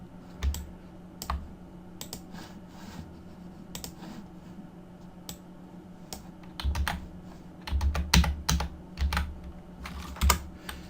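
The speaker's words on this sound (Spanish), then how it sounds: "Tengo que pulsar Enter" Typing on a computer keyboard with scattered individual key clicks and occasional heavier keystrokes such as Enter presses, close and fairly quiet in a calm room.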